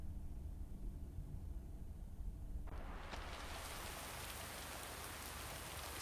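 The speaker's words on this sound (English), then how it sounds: "Oh my god, it's raining." Rain falling in the video game Lake, a soft, steady hiss that suddenly swells into a fuller, louder downpour partway through, with no voices.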